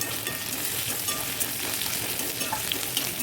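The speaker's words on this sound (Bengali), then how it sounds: "মিষ্টি কুমড়ো দিয়ে একটু ভাজা ভাজা হয়ে আসছে, এর মধ্যে আমরা আদা কুচানো দিয়ে দেবো" Sweet pumpkin and chopped ginger fry in a wok, a steady close sizzle with light stirring scrapes, no voices.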